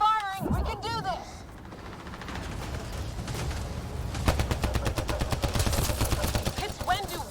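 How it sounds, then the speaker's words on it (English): Heavy sustained gunfire from combat in Mass Effect Andromeda, rapid automatic bursts growing denser and louder in the second half, with shouting voices and game effects mixed in. "Just keep firing, we can do this!"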